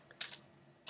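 Two sharp, close key clicks on a computer keyboard while setting up a Minecraft Bukkit server, faint and isolated with a short pause between them.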